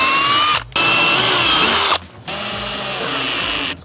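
Cordless screwdriver driving screws into wooden raised-bed parts, three close, loud whirring bursts separated by brief pauses, with no talking.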